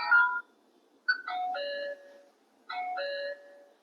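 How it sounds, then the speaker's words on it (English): An Ebco Crest CR02 or CR03 smart lock's doorbell plays an electronic chime of descending tones, repeated in about three short phrases, clear and close in an otherwise quiet room. "We'll press the doorbell."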